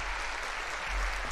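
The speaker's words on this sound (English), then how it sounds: "one clap turns into a thunderous applause" An audience in a hall bursts into thunderous applause, dense steady clapping filling the space without a break, loud and close.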